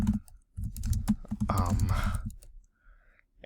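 Typing code on a computer keyboard for a web design project, a quick run of close, crisp key clicks followed by a brief pause and a few more taps.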